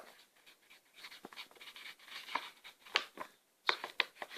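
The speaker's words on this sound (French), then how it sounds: "Attends, j'écris YouTube." A pen writing by hand on paper, quiet scratchy strokes in short uneven bursts with small taps, close and alone.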